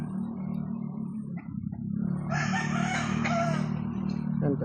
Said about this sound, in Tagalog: Pakain na siya sa manok niya.